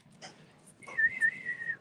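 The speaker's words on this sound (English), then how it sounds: "That was a horrible whistle." A person whistles in a comic book shop: a breathy, sputtering start, then a few short, wavering tonal notes close by, with no talking over it.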